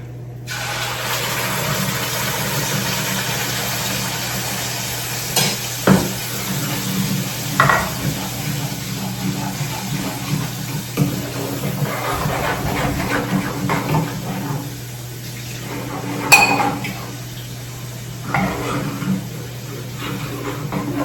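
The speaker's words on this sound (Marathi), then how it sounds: "तर चला आता पटकन फोडणी देऊन देते." Spices tempering in hot oil in a pan hiss steadily over a constant low hum, with occasional clicks and knocks of stirring scattered throughout.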